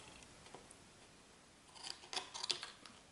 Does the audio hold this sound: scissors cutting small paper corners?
yes